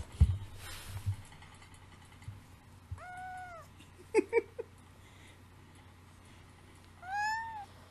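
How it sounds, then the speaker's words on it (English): A cat gives a few separate meows against a quiet indoor background, with two rising calls near the middle and a longer one near the end, plus a couple of short soft knocks in between. "Here is the cat."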